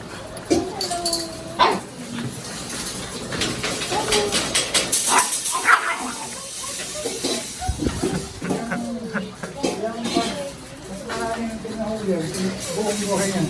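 An American Bully dog whimpers, yips and barks close by in a home setting, short vocal bursts scattered through the stretch while people talk loudly over and between them.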